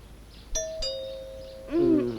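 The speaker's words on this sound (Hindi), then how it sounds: "घंटी बज रही है।" A two-tone doorbell chimes twice in quick succession, bright and clear in a quiet home, with a sustained ring trailing off before a person starts speaking.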